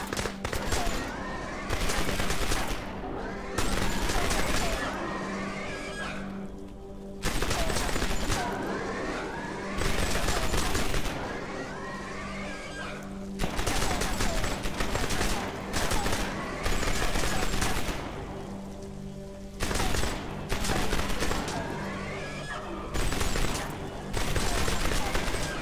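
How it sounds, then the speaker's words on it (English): Video game gunfire from guns and a side-mounted minigun in Starforge, dense bursts of rapid automatic shooting separated by brief pauses, loud and sustained throughout. "Oh, it's got a minigun on the side."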